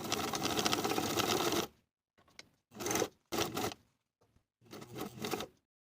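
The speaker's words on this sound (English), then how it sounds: "then edge stitch from the bottom to the point across from the top of the placket opening" A sewing machine edge stitching a fabric placket opening, starting with a long continuous whirring run, then a few short bursts and pauses, close and fairly quiet.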